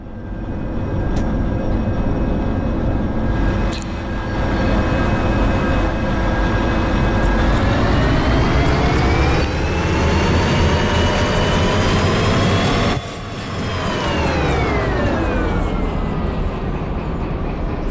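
A locomotive in the train simulator Derail Valley running alone without cars, its loud engine drone and rising whine building steadily as it accelerates over nearly eighteen seconds, with no talking.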